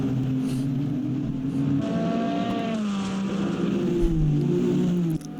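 GT3 race cars, including a Lexus RCF GT3, race at Bahrain, engines droning and revving steadily with shifting pitch as cars pass, loud and continuous throughout.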